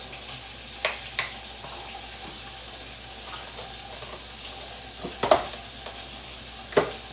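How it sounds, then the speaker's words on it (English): Diced yellow onions sizzle in a frying pan, a steady bright crackle broken by a few scraping stirs, close and alone without any talk. "I'm going to add in some of my diced yellow onions"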